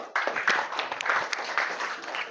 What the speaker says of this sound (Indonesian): Tepuk tangan buat Kenjo.